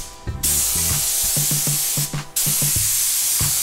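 Primer is sprayed onto motorcycle parts from close range in two loud sustained hissing bursts, each stopping abruptly, with soft clicks and taps in between.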